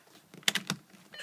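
Headlight switch knob on an Audi A4 pressed in, a few quick plastic clicks and taps up close, faint and brief.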